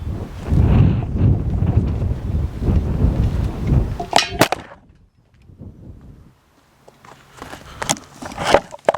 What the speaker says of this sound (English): That was the wind, blew the camera over.